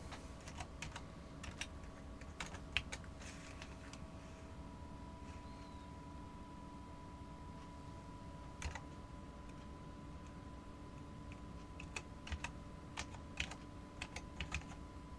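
Quiet, irregular clicks of fingers typing on a computer keyboard during a livestream, sparse taps over a low steady background hum, no talk.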